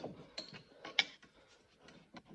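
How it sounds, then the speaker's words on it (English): A flathead screwdriver prying and working a rear brake caliper off a Ford Kuga, giving faint close metallic scrapes, clicks and creaks over a couple of seconds. "get your flathead screwdriver and just work the caliper off."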